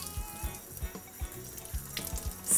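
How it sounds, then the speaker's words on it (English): Cold water from a kitchen tap runs onto a towel holding parsley, a soft steady trickle with rhythmic low splashes and gurgles, close and fairly quiet with no talk. "So what I'm doing is I'm letting the cold water"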